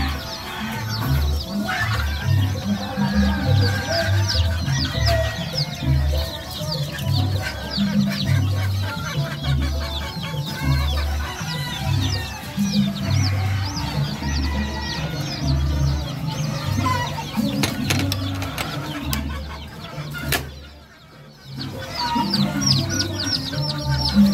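A group of baby chicks at a veterinary clinic cheep continuously, a dense, overlapping chorus of high chirps that fills the whole stretch without pause.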